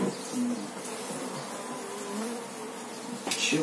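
A steady, low drone of honeybees from a hive on a balcony hums throughout, with a faint brief rustle near the end.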